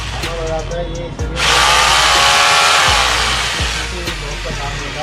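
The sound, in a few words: hammer drill switched on and running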